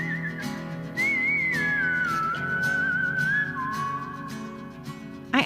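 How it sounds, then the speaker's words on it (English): A whistled melody opens the theme song, a clear sliding tune carried over soft rhythmic accompaniment, with a brief sharp burst at the very end. "The whistling part is right at the beginning"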